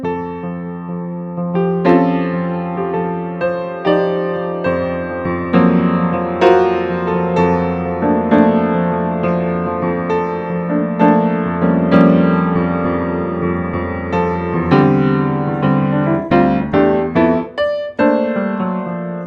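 Jazz guitar comping the chords of a tune over a sustained pedal-point bass note, dense ringing voicings changing steadily for about twenty seconds, close and fairly loud with no talking.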